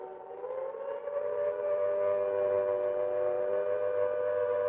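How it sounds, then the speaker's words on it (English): A wailing civil-defense-style siren in a rock song, holding a steady rising tone over a low music bed, loud and continuous throughout. "There's a siren."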